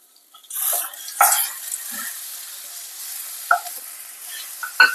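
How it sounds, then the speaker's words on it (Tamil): Tomatoes with ginger-garlic paste sautéing in a pan for kadalai curry. A soft, steady sizzle with a few sharper scrapes and stirring strokes, close and moderate in level, without voices. "எல்லாத்தையும் கொஞ்சம் நல்லா வதக்கிக்கலாம்."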